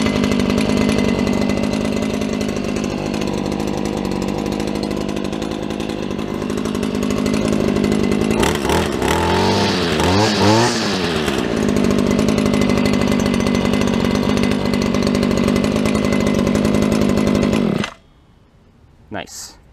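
A cold 2014 Stihl FS250R string trimmer engine catches and runs loud and steady close by, rising in a burst of revving midway, then cuts off abruptly near the end.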